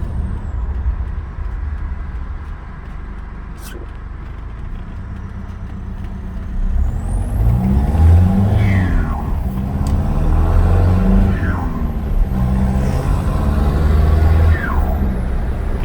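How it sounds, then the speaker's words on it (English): A Mitsubishi L200's turbocharged engine revs repeatedly outside, each lift-off followed by sharp rising chirps from the exhaust, loud and close over a steady rumble. "I'll try and let you hear this short chirping now."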